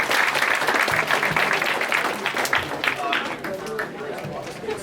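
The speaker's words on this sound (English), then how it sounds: "Let's just give one more round of applause." Audience applause at a high school poetry evening, a thick round of many hands clapping that carries steadily and begins to thin toward the end, with scattered voices underneath.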